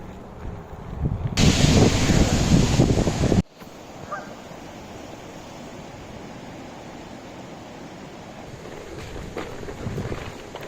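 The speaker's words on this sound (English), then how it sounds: "It's windy" Heavy wind buffeting a microphone while riding a VESC onewheel along windy Philadelphia streets, a loud roaring blast for about two seconds that cuts off abruptly into a steady softer rush of wind and road noise.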